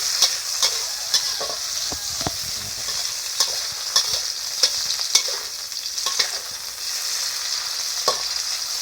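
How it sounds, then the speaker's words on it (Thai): Pork and fish noodles stir-fried in a hot wok for a cabbage dish, giving a steady bright sizzle with repeated scraping and clacking taps of the spatula, close and continuous, with no talking. "ตอนนี้แม่เอาหมูกับปลาเส้นมาผัดในกระทะแล้วนะครับ"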